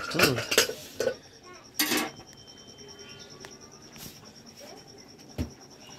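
A spoon scrapes and clinks against a pot of sambar simmering with turmeric and water, a few quick stirring strokes at the start, then quieter sparse taps over a faint background.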